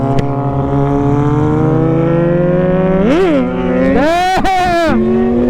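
A loud 2021 Kawasaki Ninja ZX6R KRT Edition sport motorcycle engine drones steadily, then revs sharply in two rising bursts that fall back, with people talking over it.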